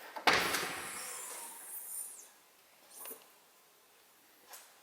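A powered side door on a Morelo Empire luxury RV slides open with a whirring mechanical hiss, followed by a couple of softer clunks and thuds fading out.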